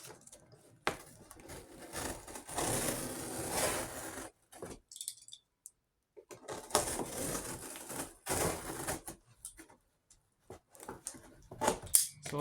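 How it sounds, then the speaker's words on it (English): A box cutter slices a cardboard box in two long scraping, ripping bursts split by silent pauses, then gives a few short sharp cuts and handling knocks, close up with no talking. "So I'm going to get my trusty box cutter and cut the box into shape."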